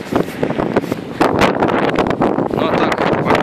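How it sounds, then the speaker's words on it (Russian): Strong wind buffets an outdoor microphone in loud, irregular gusts, roaring and rumbling throughout with no pause. "это будет как минимум сильный ветер"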